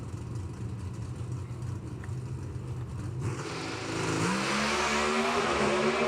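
Pro Stock drag race cars launch off the line in a final round at the Reading Nationals, engines roaring loudly and climbing sharply in pitch after a brief idle, sustained and close.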